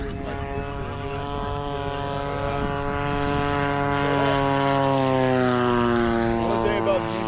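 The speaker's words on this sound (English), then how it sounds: "One thing about the GT80 is it is one of the smoothest engines you'll ever find." A GT80 engine on a P-47 Razorback model plane runs in a loud, smooth, steady drone that rises slightly in pitch partway through, while a voice talks over it.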